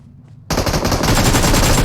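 Gunfire in the mobile battle-royale game PUBG Mobile, a loud sustained automatic burst that cuts in abruptly after a brief near-silence and keeps rattling without pause to the end.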